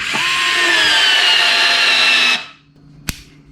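A WORX WX242 cordless screwdriver runs at high speed for about two seconds, driving a 3.5 cm screw fully into a board, then stops abruptly, followed by a single sharp click.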